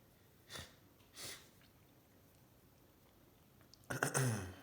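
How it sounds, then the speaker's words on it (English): Two short nasal sniffs early on, then a pause and a louder, breathy snort or sniffle near the end, close to the microphone. "Sorry for my sniffling."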